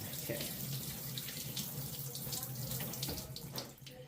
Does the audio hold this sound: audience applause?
no